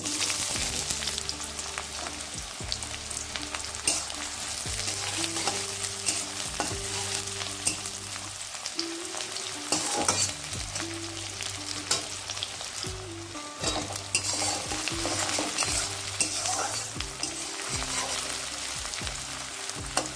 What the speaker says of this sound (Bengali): পেঁয়াজ কুচিটা দিয়ে আমি 1 মিনিট ভেজে নিলাম।